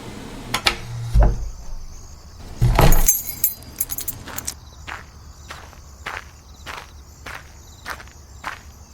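Footsteps of people walking away from a house tap in a steady, evenly spaced rhythm, with keys jangling and a few clattering knocks at the start, fairly close and otherwise quiet.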